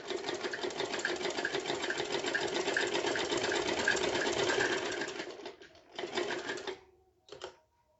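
Sewing machine stitching a frock, a steady fast whirring run for about five seconds, then a short burst and a brief final spurt, close and fairly quiet with no talk.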